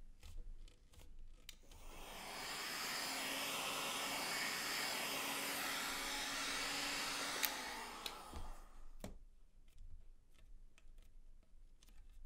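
A steady, loud blowing whoosh of a hairdryer or heat gun softening sheet wax for a carbon fibre mould runs for several seconds, then cuts off, leaving quieter handling noises and clicks.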